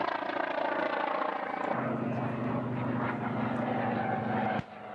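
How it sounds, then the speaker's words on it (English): A Curtiss SB2C Helldiver warplane's propeller engine drones loudly and continuously overhead at an airshow, its pitch shifting as it passes, then drops off abruptly near the end. "That airplane is the only one surviving the SB-2C helldiver."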